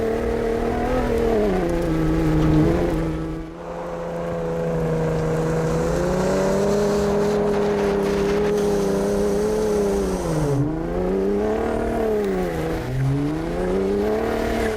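Ford Raptor's twin-turbo 3.5-liter V6 drones steadily through its exhaust, the pitch dipping and climbing with throttle changes in a loud, sustained roar with no talk.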